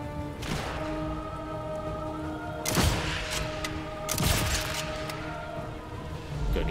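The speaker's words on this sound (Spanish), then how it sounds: "meter un par de tiros más por si acaso" Two sharp gunshot cracks from the PC game Sniper Elite 5, set in France, ring out a couple of seconds apart over a steady background hum, with muffled game ambience throughout.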